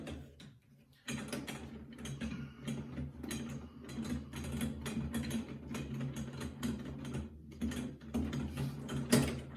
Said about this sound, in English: Now I'm assembling the trigger assembly.